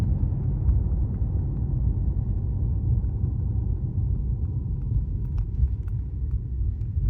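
A car running Full Self-Driving software rolls over a speed hump on a road in Canberra, heard from inside the cabin as a steady, loud low rumble of road and engine noise with no sharp jolt.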